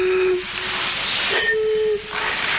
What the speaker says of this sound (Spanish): La botella pequeña produce un sonido más grave y ello depende obviamente también del largo del cuello.